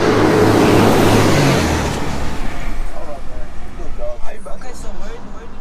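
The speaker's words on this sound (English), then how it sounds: "That's the second truck that passed by again." A truck rolls past in heavy road traffic, a broad loud rumble that swells and then fades over a few seconds, with other vehicle noise continuing underneath.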